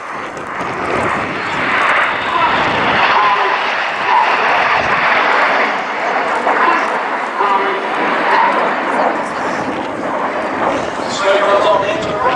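An aerobatic display aircraft performing at the Cosford airshow, its engine a loud continuous roar that wavers as it passes. A commentator talks over it throughout.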